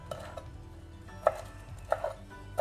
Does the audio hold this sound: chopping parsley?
yes